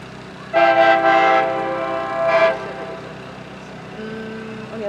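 Amtrak 774 arriving at a station, its horn sounding in two blasts, a longer one followed by a shorter one, over a steady low rumble of the approaching train.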